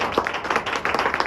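A church congregation claps and applauds together, a dense patter of many hands filling the room, steady and fairly loud for a brief stretch.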